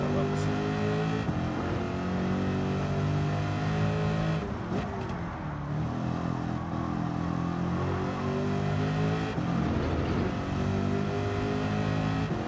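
A 2014 Chevrolet Corvette C7 with 301 horsepower, driven in a racing video game, its engine droning steadily with a few rises and dips in revs, loud and continuous throughout.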